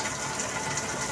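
Water drains from a clogged Eureka washing machine in a steady, rushing gush that fills the whole brief moment.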